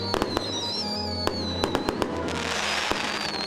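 Fireworks display explosions, a rapid series of sharp cracks and bangs, some close together, over a continuous crackling background with a high whistling tone.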